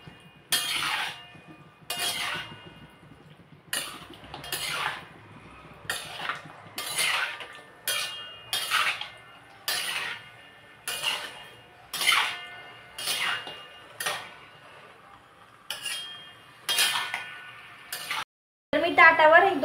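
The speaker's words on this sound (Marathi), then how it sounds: "आता एकदा आपण हलवून घेऊया." Chicken curry is stirred in a pot, with repeated scraping and clinking strokes of a spoon against metal in a slow, regular rhythm, close and fairly loud, ending with a brief burst of louder clatter.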